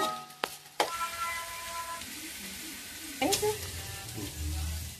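Onions and green chillies frying in hot oil for bagara rice, a steady sizzle punctuated by sharp clatters of a spoon stirring the pan, with someone speaking over the cooking.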